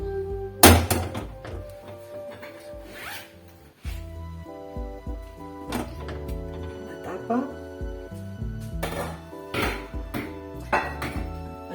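A hot pot of lentils is lifted out of a retained-heat cooker, with heavy metallic thunks and clanks of the pot and lid against the cooker, while someone talks over the handling.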